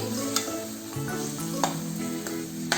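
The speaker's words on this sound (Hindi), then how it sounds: "हींग डालने के बाद हम डालेंगे टमाटर" Ripe, finely chopped red tomatoes hit hot oil seasoned with asafoetida, giving a steady loud sizzle with a few sharp spatter pops and stirring scrapes throughout.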